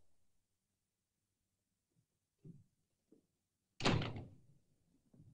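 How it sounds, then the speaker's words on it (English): A door shuts with one loud, close slam in an interior scene from a 1965 film, after a few quiet footsteps and handling sounds, and the slam's echo fades afterward. "Shut the door."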